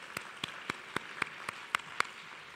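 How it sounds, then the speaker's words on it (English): A handful of sparse, evenly spaced claps at a conference session, about eight distinct slaps in quick rhythm, fairly faint against a quiet room. "Let's give her another round of applause."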